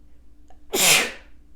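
A single sharp, forceful sneeze bursts out close to the listener, preceded by a faint intake of breath, against otherwise quiet background.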